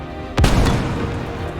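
A Hell Cannon fires in the video game Squad: a single heavy boom strikes sharply and then rolls away in a long, fading rumble.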